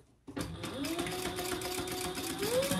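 Close and steady, a sewing machine runs continuously after a short silence, stitching four handbag lining pieces together along the bottom, its motor whir rising slightly in pitch near the end.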